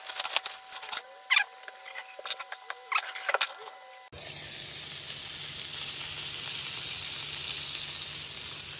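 Salmon frying in a pan gives a steady, dense sizzle that starts abruptly partway through and holds loud and even to the end, with scattered pops and clatter before it.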